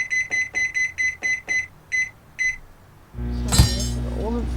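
Repeated electronic oven beeps in the Cooking Simulator video game, about eight evenly spaced tones, followed by a louder burst of kitchen clatter and a steady hum.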